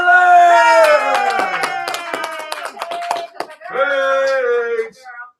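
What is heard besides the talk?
audience clapping for a poet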